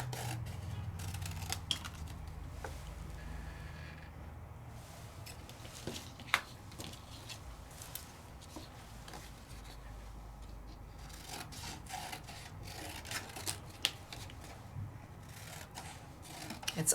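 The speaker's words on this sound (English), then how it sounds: "You could fussy cut the whole thing out." Scissors fussy cutting around an embossed die-cut craft piece, a soft, steady run of small snips and rubbing paper sounds, close but quiet, with no talking.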